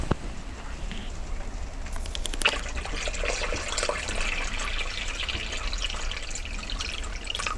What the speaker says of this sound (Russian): Так, добавляем еще воды.